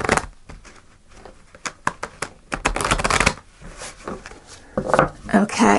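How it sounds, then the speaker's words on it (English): Tarot card deck being shuffled by hand, a run of quick papery riffles and slaps in short bursts, close and fairly quiet, with a voice talking at times. "One more shuffle."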